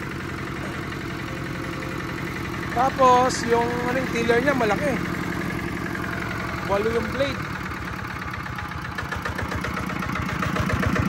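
A surplus Japanese tiller with a 70 bearing type Yanmar engine idles steadily close by, a continuous, even chugging throughout while someone talks over it.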